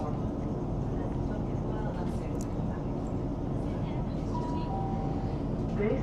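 Steady low rumble and rolling hum from a Windrush line train heading to Crystal Palace, with a faint rising motor whine, constant and close throughout.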